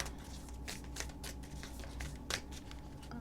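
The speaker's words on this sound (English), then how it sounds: "I always shuffle it this way and they always tell me to shuffle it that way." A deck of oracle cards being shuffled by hand, giving a string of close, quick riffling and sliding bursts at an uneven rhythm, with no talking.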